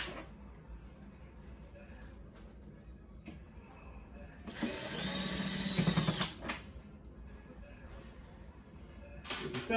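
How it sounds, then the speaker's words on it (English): A ratchet spins out bolts on an Arcade1Up arcade cabinet, one dense, loud burst of mechanical whirring and clicking standing out from a quieter background of small handling noises. "First thing we want to do is remove this bolt from both sides."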